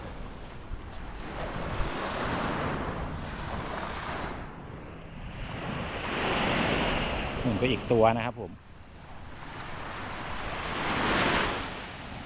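Waves wash steadily onto Jomtien Beach in Thailand with gusty wind across the microphone, while someone talks over the strong surf.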